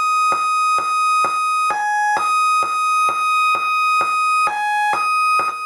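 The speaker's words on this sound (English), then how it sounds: "I've got the even VCO and the drum going" A eurorack VCO plays a bright, steady repeating tonal sequence over a regular drum beat, with pulses about every half second. Two pitches alternate, and the whole thing is loud and continuous with no voices.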